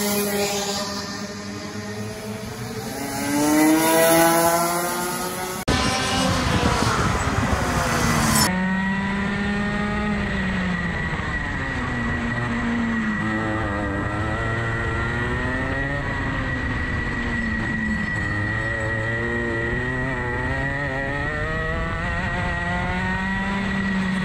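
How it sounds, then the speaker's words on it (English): Racing kart engines scream around Mansells Raceway on a test day, high revving whines rising and falling through the gears as karts pass close by, with a loud burst of one kart sweeping past before the engine note settles into steady revs. "obviously the engines are quite loud out here"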